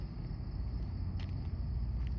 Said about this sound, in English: I hear a car coming behind me though, I think.